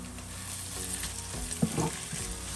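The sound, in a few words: frying onions with garlic and ginger paste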